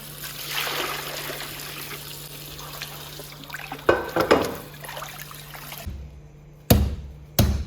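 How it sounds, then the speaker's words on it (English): Tap water runs over food being rinsed in a kitchen sink, a steady close splash and trickle that shifts as the food is moved. The flow then stops, followed by a couple of sharp knocks. "I'm going to rinse this off one more time"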